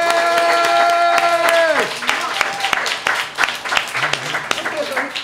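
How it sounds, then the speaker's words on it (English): Audience applause at a presidential town hall event: a dense, steady burst of many hands clapping. It follows a fading sustained tone and carries on through the rest of the moment. "can you please give Sister Vicki Dillard a round of applause"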